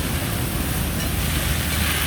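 Water sprays from a garden hose onto plants and flowers, a steady close hiss of spraying water that runs unbroken throughout.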